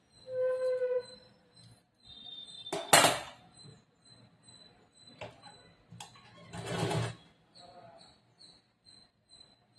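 A sewing machine stitches a lined blouse with a border in two brief bursts amid quiet room tone with a steady high electrical whine; a voice speaks briefly at the start.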